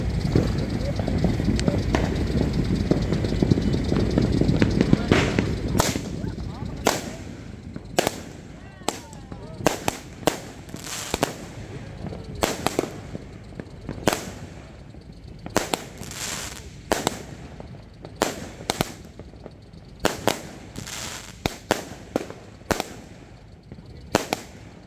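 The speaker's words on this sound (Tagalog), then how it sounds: "Hindi pa tapos ang ating putukan." New Year fireworks and firecrackers going off: a long run of sharp bangs and crackling pops, some in quick bursts and others spaced apart, fairly near and loud, with a low rumble early on.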